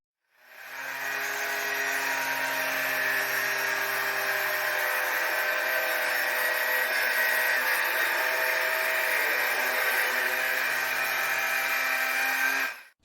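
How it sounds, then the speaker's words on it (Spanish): A handheld circular saw run along a metal guide whines at a constant, loud pitch while cutting through material, running steadily for several seconds before stopping abruptly. "utilizaré una guía metálica y la sierra circular de mano"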